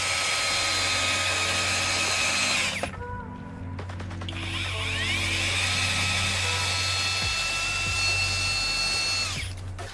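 A HOTO 12V brushless cordless drill runs with a steady high-pitched whine, stops briefly, then spins up again and runs on, close and loud with no talking.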